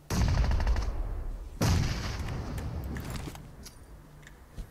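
Gunfire in PUBG Mobile: two loud, close bursts of shots, each trailing off into a ringing echo, with faint clinks afterward and no talk.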